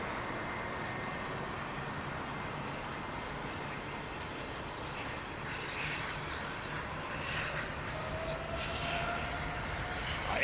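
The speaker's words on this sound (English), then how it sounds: "Right, listen to the APU on that." A jet aircraft's auxiliary power unit running at London Heathrow Airport, a steady broadband roar with a constant whine, continuous and fairly close, swelling slightly toward the end.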